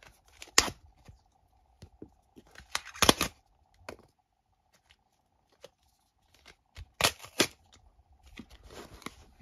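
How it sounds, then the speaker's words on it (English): Package being torn open with teeth during a Nintendo Switch unboxing, heard as sparse, close, sharp crinkles and tearing snaps in scattered bursts against near silence, with no talk. "kind of tearing it up with my teeth, kind of trying to get it open"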